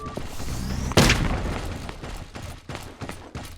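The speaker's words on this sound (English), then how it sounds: "Stun grenade." A stun grenade detonates in the mobile shooter Ace Force 2 with a single loud, sharp boom about a second in, followed by a ringing, decaying tail and scattered fainter game sounds.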